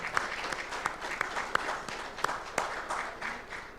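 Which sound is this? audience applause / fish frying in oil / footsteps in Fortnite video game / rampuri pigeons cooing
audience applause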